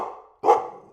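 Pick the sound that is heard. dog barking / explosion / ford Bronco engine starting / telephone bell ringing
dog barking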